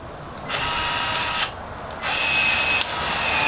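A PEX expansion tool spreading plastic plumbing pipe to fit onto a fitting, giving two loud whirring motor bursts separated by short pauses, close and harsh with no talking.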